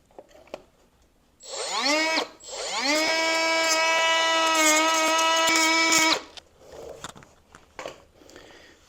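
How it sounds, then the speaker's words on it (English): A pneumatic cutoff tool grinds down a pin head on a motorcycle chain link during a sprocket and chain change on a KP 150 mini. Two bursts of loud, high whining buzz spin up; the second holds steady for several seconds before stopping. "I'm going to grind this link down right here. It's best to use a grinder, but I'm just going to use my cutoff tool."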